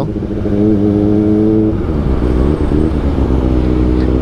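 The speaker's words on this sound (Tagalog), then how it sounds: "nandito na ako sa EDSA. Ang lala ng traffic pabalik" Dense road traffic on EDSA, a major highway, with steady engine rumble and idling car and motorcycle motors close by, a low continuous drone that keeps its level throughout.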